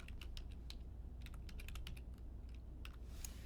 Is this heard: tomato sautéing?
no